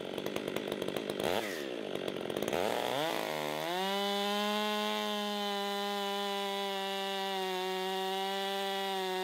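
A chainsaw mill cuts freehand through a large log, starting with revving bursts and then settling into a loud, steady, high-pitched whine of a sustained cut that runs without a break.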